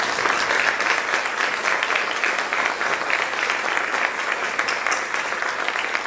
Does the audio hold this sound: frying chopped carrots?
no